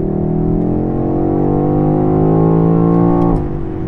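Engine of a 2020 BMW X6 M Competition revving loudly and steadily under hard acceleration, pitch climbing smoothly for about three seconds before dropping off as the throttle lifts.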